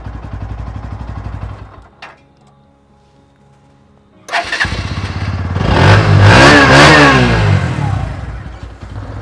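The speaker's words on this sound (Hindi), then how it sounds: "इंजन साउंड सुनिए आइडियल कंडीशन पर, एग्जॉस्ट नोट" A Bajaj Pulsar NS 125 motorcycle engine cranks and dies, then after a pause fires up and settles into a loud, throaty idle with a few revs, close by.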